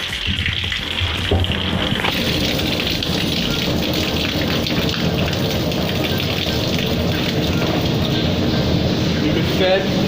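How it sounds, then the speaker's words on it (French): Water rushes steadily into a 3000 L water tank from an opened tap, a loud, continuous splashing roar that holds without a break, with someone talking over it. "Et là, vous entendez, la cuve d'eau est en train d'être chargée."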